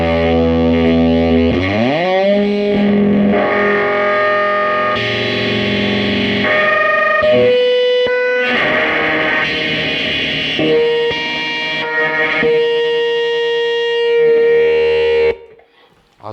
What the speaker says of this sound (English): it's called a seriously unpleasant companion fuzz, and it's a perfect remake of all the old Shinai fuzz pedals